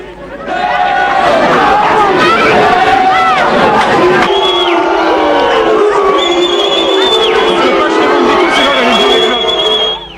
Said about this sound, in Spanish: un grupo numeroso de simpatizantes del presidente coreaba su nombre